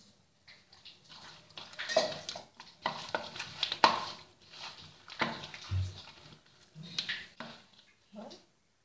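Soft, wet squelching and patting sounds come in irregular bursts as spice-coated quail meat is mixed by hand in a bowl, with occasional light clinks.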